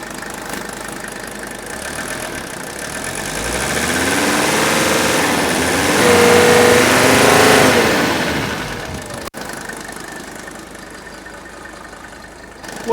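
A diesel engine idles steadily up close, its rumble swelling louder in the middle with a rough, knocking exhaust note, then easing back down.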